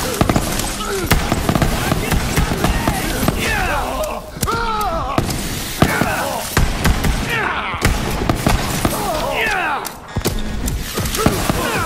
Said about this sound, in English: Ah, that's a lot of rockets.